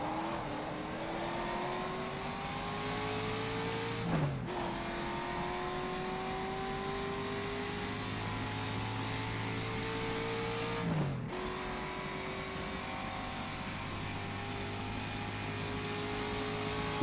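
A racing car engine in the driving game FlatOut, on a course through Irish countryside, holds a steady loud drone with rising pitch through the gears. Two brief shifts or bumps break it, and there is no talk.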